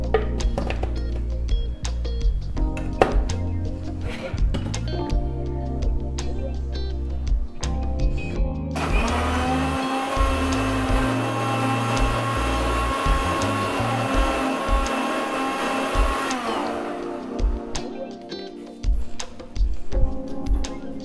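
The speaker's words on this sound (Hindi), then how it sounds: "अब इन सबको मैं बहुत ही अच्छे से मिक्सी में पीस दूँगी।" A mixer grinder roars loudly for several seconds blending cold coffee with Oreos, then winds down; someone talks before and after it runs.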